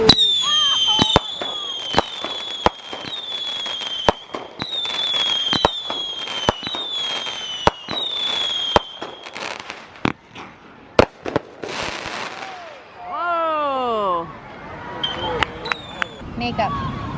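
Consumer fireworks shot off at Myrtle Beach pop in a steady, regular run of sharp shots, followed by a crackling volley and whistling rising tones, with people talking and reacting nearby.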